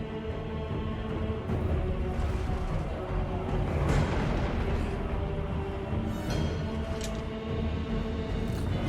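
Enemy gunfire in a Warhammer Tzeentch video game, a dense, continuous barrage of booming shots and blasts layered over busy game music, loud throughout with bursts at several points.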